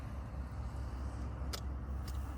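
Heavy trucks and other traffic pass along a road outside a windy lakeside campsite in Qinghai, a steady low rumble holding throughout, fairly distant, with a couple of brief hissing swells.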